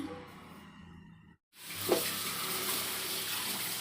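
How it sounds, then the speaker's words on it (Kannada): Running water from a kitchen tap splashes steadily over fresh spinach leaves being washed. It starts after a brief pause and keeps up a constant, close hiss with one small splash. "ಪಾಲಕ್ ಮಾತ್ರ ಚಲೋ ತೊಳಿಬೇಕು"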